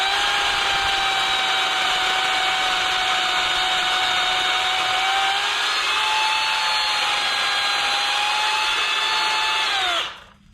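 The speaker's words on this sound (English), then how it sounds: "Shorten this limb up some here." A Remington electric chainsaw cuts a tree limb with a steady high motor whine under load that wavers in pitch, runs continuously for about ten seconds, then winds down abruptly.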